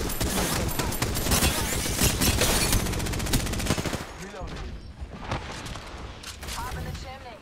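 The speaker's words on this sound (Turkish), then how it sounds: "Son mermimle vurdum öldü." Rapid bursts of automatic gunfire from the video game Apex Legends, loud and dense for the first four seconds, then scattered shots and game effects, with someone talking over the action.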